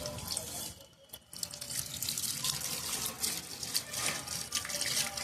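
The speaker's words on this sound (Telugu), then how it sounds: "కొంచెం నీళ్ళు పోసి" Water is poured onto a freshly planted dragon fruit cutting, a steady splashing pour with a short break near the start, close and fairly quiet.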